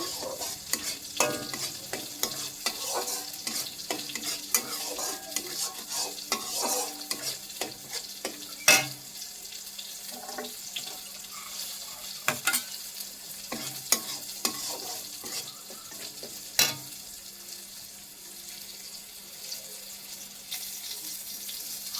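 Spices fry in a pan and are stirred with a spatula, giving repeated close scrapes and taps over a soft, steady sizzle. The stirring runs at an uneven pace with occasional sharper knocks and no talk.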